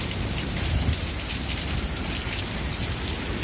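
Heavy rain pours steadily during the first severe storm of 2020, a dense close hiss of drops hammering surfaces, with a faint low rumble underneath and no voices.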